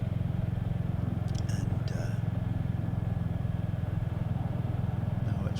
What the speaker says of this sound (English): The gear change is very slick.